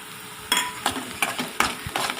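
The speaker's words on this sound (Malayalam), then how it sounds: "നമുക്കതിലേക്ക് അരപ്പ് ആഡ് ചെയ്ത് കൊടുക്കാം" Ground spice paste tipped into sautéed onions for a spinach stir-fry, then stirred: several distinct scraping strokes against the pan over a soft sizzle, close and fairly quiet, no voices.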